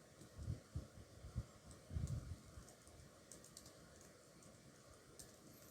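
Typing on a computer keyboard, a few soft close key clicks and taps in short bursts near the start, then quiet room hum.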